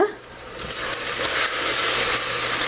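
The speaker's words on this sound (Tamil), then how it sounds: "ஆனியன் கொஞ்ச நேரம் நல்லா வதங்கட்டும்" Onions for mutton biryani sauté under a lid in a pan, giving a soft, steady sizzle and hiss that swells slightly after a quieter start.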